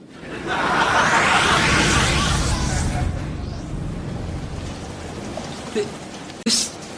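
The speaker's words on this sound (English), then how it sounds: "I can feel the breeze on my face and the rain on my cheeks" Rain sound effect in a radio comedy, a broad steady hiss of falling rain that swells early and then holds at a softer level, with a couple of brief rustles near the end.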